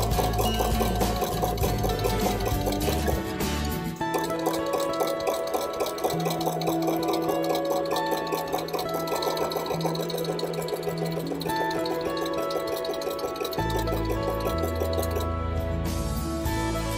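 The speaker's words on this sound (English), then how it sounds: "So I want to do a zigzag stitch." A sewing machine stitches a zigzag seam while assembling a fringe clutch bag, running steadily and continuously for the whole stretch with a dense rapid mechanical rhythm and a tonal backdrop throughout.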